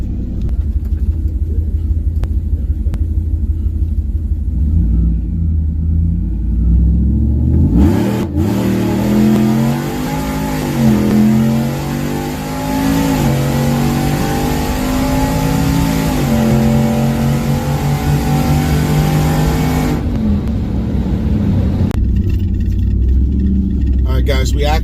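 A 4-door Ram pickup truck makes a quarter-mile drag run: a deep, loud rumble swells into hard acceleration, with the engine note rising and sweeping through gear changes for about twelve seconds before dropping back.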